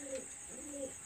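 A Pakistani high flyer cross pigeon coos twice in soft, low rounded calls, close and quiet, with a short gap between the two coos.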